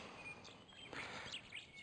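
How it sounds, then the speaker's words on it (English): Birds chirping faintly at a roadside rest area among wildflowers in the Pilbara outback, giving a few thin, high calls over a soft, steady background hiss. "Birds are humming."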